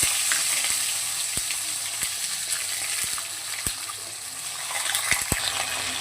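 Chopped flat beans, eggplant, potato and radish fry in hot oil with a five-spice tempering, a steady close sizzle dotted with sharp pops and clicks, with no talking.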